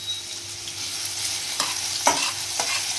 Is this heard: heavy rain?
no